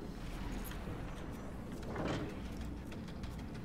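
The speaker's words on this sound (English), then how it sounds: "Button pressed. Giant door open." A giant door slides open in the video game DOOM: a faint rumbling grind swells briefly midway over a continuous low background drone, with scattered soft clicks.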